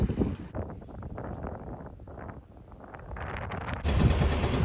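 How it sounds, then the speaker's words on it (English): Wind rushing over a hill and swirling through a mooring at Hvar, Croatia, heard as loud, buffeting gusts battering the microphone, rising and falling continuously and growing harsher toward the end. "I think it's the wind's coming over this hill and then like rotating around or getting funneled through this"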